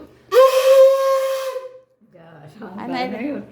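A conch shell blown once in a long, steady tonal blast lasting over a second, loud and close, followed by a quieter, rougher second attempt.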